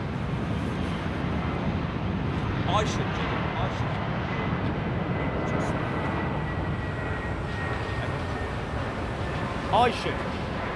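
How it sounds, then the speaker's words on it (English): Jet aircraft engines spool up at London Heathrow Airport, a broad steady roar from a distance with wind buffeting the microphone and brief tonal whines rising faintly through it. "You should be hearing the aeroplanes as they spool up like they did, like we had the other day."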